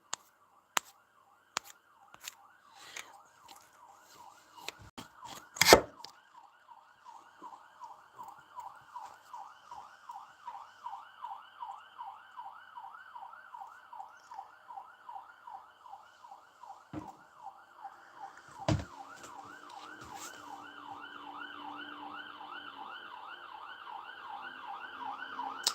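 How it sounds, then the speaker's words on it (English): An ambulance siren wails in a steady rising-and-falling pattern near a hospital, growing louder as it passes close by, with a few sharp knocks and thumps early on. "We're very close to the hospital here, so you will hear a lot of sirens and stuff."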